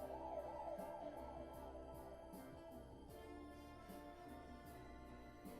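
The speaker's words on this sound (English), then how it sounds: "So is that ambulance carrying Rocky or Apollo?" An ambulance siren from the film Rocky II wails continuously in the background over a dense, steady wash of ambient sound, with no speech.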